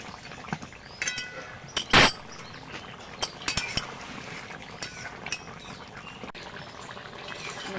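A spoon clinks and scrapes against a pot as garam masala is stirred into a fish curry with potatoes and tomatoes, with soft irregular taps, one louder clatter and quiet sizzling throughout.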